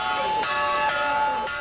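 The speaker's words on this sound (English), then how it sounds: "The school bell, an old Russian artillery shell" A school bell made from an old Russian artillery shell is struck three times at even intervals, each strike a bright metallic clang with a long sustained ring that overlaps the next.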